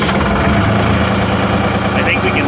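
Diesel engine of an old Ford backhoe running after a start, a steady close rumble with mechanical rattle throughout and no clear cranking onset, briefly under light talk.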